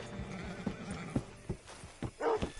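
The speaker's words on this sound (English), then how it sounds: "Hitch your horse up here." A horse whinnies loudly in a video game, with clip-clopping hooves and a dog barking faintly in the mix, the neigh rising clearly near the end.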